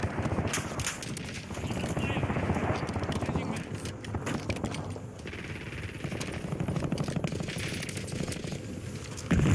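Call of Duty gameplay with rapid automatic gunfire, bursts of shots rattling through a dense, busy game mix alongside explosions and background noise, with a voice heard at moments.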